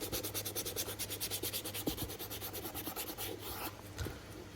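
The top piece of a resoled Red Wing Iron Ranger 8111 boot is trimmed on a rotating sanding or finishing wheel, giving a continuous close abrasive rubbing and grinding with a fast pulsing rhythm and occasional knocks.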